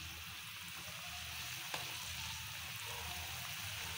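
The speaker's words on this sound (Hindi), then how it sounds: "अब देखिए ऑयल गर्म हो गया, तो इसमें हम थोड़ा थोड़ा करके डालते हैं।" Shakkar pare dough pieces deep-frying in hot oil over a low flame, a soft continuous bubbling fizz heard close and steady, with one faint tap partway through.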